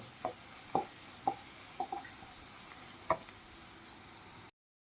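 Ginger, garlic and crushed green chillies sautéing in a pan for a homemade beef fry, a steady low sizzle broken by several sharp stirring clicks of a spoon against the pan.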